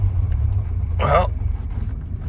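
A classic Jaguar Mark 2, being revived after a stalled project, pulls away with a steady low engine rumble, and a short, brighter burst of sound rises over it about midway.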